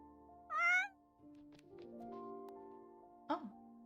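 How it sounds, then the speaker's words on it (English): A cat in The Sims 4 meows twice, once clearly and once briefly, over soft game music with no talking. "We just want another cat."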